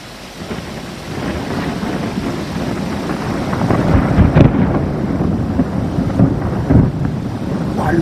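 Heavy rain pours steadily in a thunderstorm in Amiens, France, while thunder rumbles and cracks, growing louder and more intense toward the end, with gusty wind noise.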